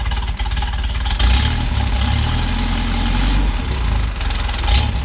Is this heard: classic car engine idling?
yes